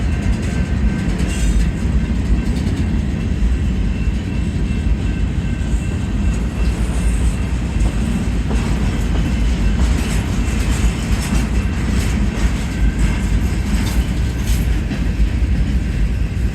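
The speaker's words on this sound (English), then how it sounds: "Yeah, what a long train this is." A long, slow Union Pacific outbound manifest freight train rumbles past nearby at a street crossing in Tempe, with steady clattering wheels and faint squeals throughout.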